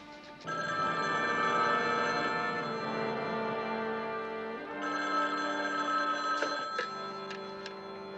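A telephone rings steadily for several seconds on a long-distance call, its tone moderately loud and continuous, shifting slightly partway through, with no voices heard.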